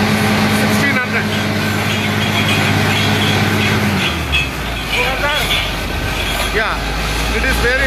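A water well drilling rig's diesel engine runs steadily at full speed, a loud continuous drone that shifts to a deeper, heavier roar partway through, with a voice talking over it.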